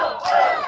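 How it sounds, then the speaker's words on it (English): A sellout stadium crowd at a Michigan college softball regional game at Alumni Field cheers and chants in a broad, sustained roar, swelling briefly midway through a short burst. "Chance of Go Blue ringing out through Alumni Field here"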